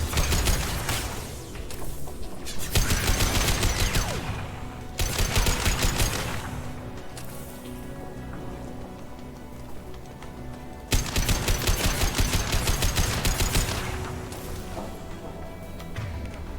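Rapid automatic gunfire in the video game Mass Effect 2, loud bursts of several seconds each, broken by brief pauses with a mechanical background hum.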